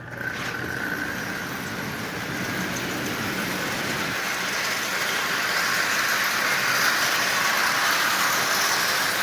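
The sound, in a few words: Marx 999 toy model train running on rail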